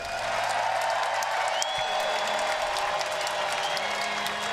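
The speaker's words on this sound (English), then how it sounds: "Big round of applause for Nike and Major League Soccer." A crowd at the 2014 USL Pro Championship soccer match claps steadily throughout, a dense wash of applause from many hands at moderate distance.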